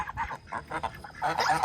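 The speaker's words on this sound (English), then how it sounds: "Oh, Emily, you can't have a pagan duck in your water down here." Domestic duck calling beside water, a run of close, moderately loud honking quacks in short bursts, growing busier and louder toward the end.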